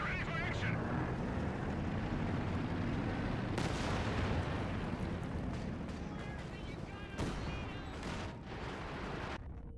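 Pak howitzer firing high explosive rounds in a Company of Heroes 2 battle, with several sharp booming blasts over continuous distant combat noise and commentators talking throughout.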